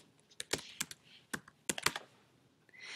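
Typing on a computer keyboard, a few quick close bursts of key clicks separated by short pauses, no talking.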